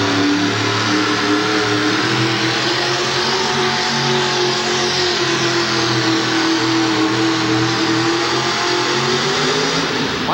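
A pulling truck's engine roars at full revs throughout a 1989 USHRA truck and tractor pull in Worcester, Massachusetts, loud, continuous and dense, with no break in the sound.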